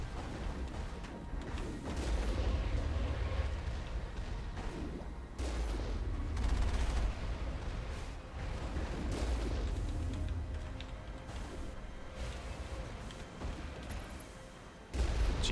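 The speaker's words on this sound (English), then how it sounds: "That's a lot of rockets." Repeated rocket launches and booming explosions in the sci-fi game Mass Effect, at Noveria, coming in loud rolling waves of blasts with brief lulls between volleys.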